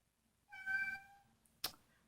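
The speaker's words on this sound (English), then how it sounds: "my cat is meowing" A single drawn-out cat meow, clear and fairly close, followed a moment later by a brief sharp knock or clatter.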